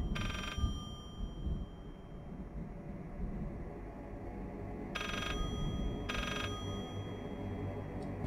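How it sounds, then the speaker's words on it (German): Telephone in the horror video game Layers of Fear ringing in short repeated bursts over a low, steady ambient drone, no speech. "Telefon!"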